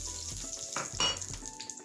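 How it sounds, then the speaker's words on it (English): Vegetables hit hot olive oil in a pot, giving a steady close sizzle with a few brief stirring scrapes and pan knocks, no voices. "I'm gonna add the vegetable to the pot. Oh, nice and sizzling."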